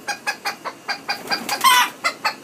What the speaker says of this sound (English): He's just really developed into a great rooster.